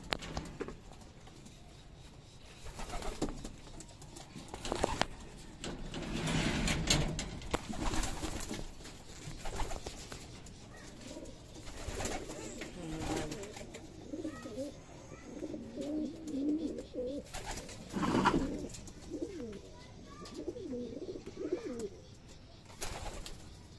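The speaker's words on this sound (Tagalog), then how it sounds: "Ayan muna yung mga ibon natin." Pigeons coo repeatedly in soft, throaty phrases nearby, with occasional rustling and fluttering sounds between calls.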